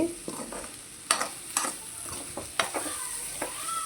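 Siri kura curry dry-frying in a pan while being stirred, with a faint sizzle under repeated scraping strokes of the spoon at an irregular pace, quiet and close.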